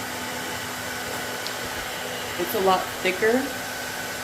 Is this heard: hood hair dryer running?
yes